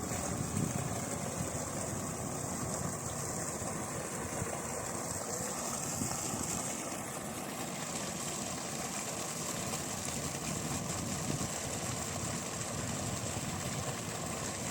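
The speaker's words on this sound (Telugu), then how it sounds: "ఇప్పుడు మోటార్ అయితే ఆన్ చేద్దాం." A 3 hp open-well submersible pump motor runs continuously with a steady, faint mechanical hum and rushing water noise, unbroken and even from start to finish, with no talking.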